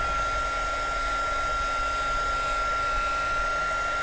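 Heat embossing tool blowing on a card, a steady even whooshing hiss with a faint high whine, continuous and alone.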